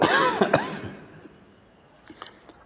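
A short, rough burst of coughing close by, quickly trailing off into quiet room noise with a few faint clicks.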